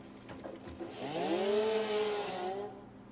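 A chainsaw in the video game Satisfactory revs up and holds a steady droning cut for about two seconds, loud and close, after a few brief clicks.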